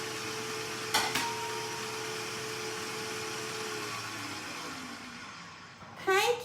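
A Kenwood kMix stand mixer whisks cake batter, a steady motor drone that winds down near the end, broken by a couple of sharp clanks and a louder rattle, with brief speech.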